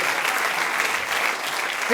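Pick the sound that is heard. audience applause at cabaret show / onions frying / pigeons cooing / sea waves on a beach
audience applause at cabaret show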